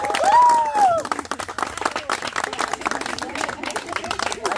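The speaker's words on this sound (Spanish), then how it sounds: "¡Aplauso!" Clapping and cheering from a crowd of people at a lively group gathering with an egg-catching game, with a voice rising over the noise at first, then steady mixed applause and chatter.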